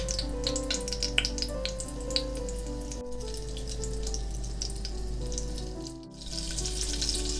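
Steady sizzling and crackling of a small piece of butter frying in a dry pot, soft and close, continuing without pause.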